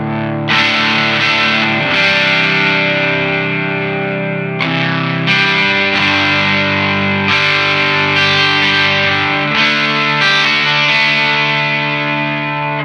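Electric guitar played through a tiny Santono Uno preamp with saturation turned all the way up rings out in loud, distorted sustained chords, several strummed changes in a row with a slight chorus-like shimmer.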